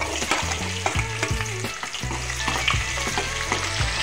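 Onion sizzling in hot oil with cumin seeds in a pan for fish curry, a steady loud fry with stirring scrapes and occasional clinks throughout, no talking.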